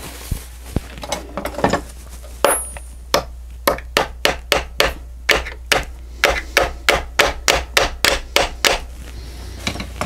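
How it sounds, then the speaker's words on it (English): A small hammer taps repeatedly on a Grizzly G0781 mill gear, giving a steady series of sharp, close metallic knocks with brief ringing between strikes and no talk. "let me get a little hammer and tap that."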